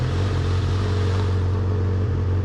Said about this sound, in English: We could do a little rev bomb.